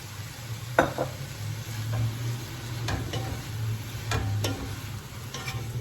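Leeks wilting in a pan crackle with a soft sizzle while a utensil stirs them, several distinct clicks and scrapes against the pot over a steady low hiss.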